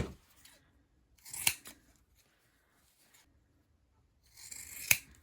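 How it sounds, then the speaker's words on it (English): Scissors snip thread in two crisp cuts several seconds apart while a beginner's bowl cosy is being sewn, close and clear over an otherwise quiet background. "Trim probably about 1/4 inch away from the thread."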